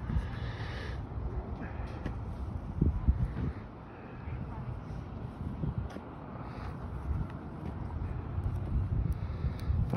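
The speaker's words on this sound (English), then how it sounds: "It's windy." Gusty wind buffets the microphone in uneven rushes on an open street, with faint background activity and occasional knocks underneath.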